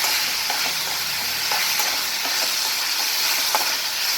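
Steady, dense sizzling hiss of food frying with tamarind in a pan, continuous and close with faint stirring ticks and no voices.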